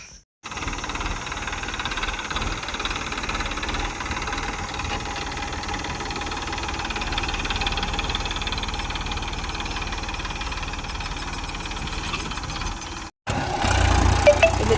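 A tractor engine runs at a steady idle, a constant rumbling drone held close for over twelve seconds before a brief cut and louder rougher noise at the very end.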